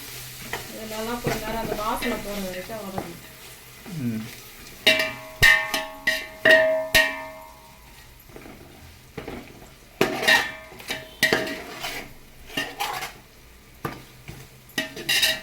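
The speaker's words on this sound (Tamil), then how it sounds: "இஞ்சி பேஸ்ட்டு பண்ணிவிட்டு நல்லா மிக்ஸ் பண்ணிக்கிறோம் இதோ நம்ம வதக்கணும்" Ginger-garlic paste, 50 g each, sautéing in a pan for chicken biryani: a close sizzle under repeated metal spatula scrapes and clanks against the pan, with a brief voice at the start.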